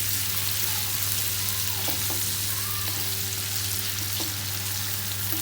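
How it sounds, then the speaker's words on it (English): Potatoes stirred in sizzling oil and butter for a Parsi dish, a steady frying hiss with occasional soft scraping of the spoon against the pan, close and continuous with a low hum beneath. "Now we will just stir it to coat the oil and butter over it."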